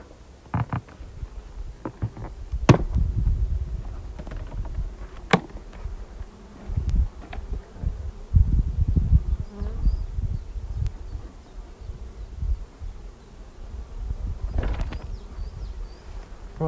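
Honey bees droning around a freshly opened, packed beehive, a steady low hum with scattered close buzzes as individual bees pass near, broken by occasional knocks and handling clatter.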